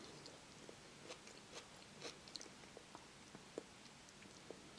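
Someone chews a meal of salmon, white cabbage, spinach and rice, with faint, irregular soft crunches and wet bites very close to the mic in an otherwise quiet setting.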